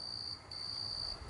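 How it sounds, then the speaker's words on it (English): Cricket chirping outdoors, a steady high trill that holds nearly unbroken with a brief dip midway, over faint low background rumble and no talk. "The grasshopper, the cricket's singing."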